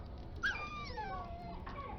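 Dog whimpering in Dragon Age Origins, a single high, wavering whine that rises and slides down, close and soft, alone without talk.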